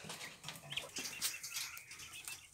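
Young poultry kept in a cage, with two small ducklings at the back, give soft clucks, chirps and wing flutters at close range, steady and busy with no talk.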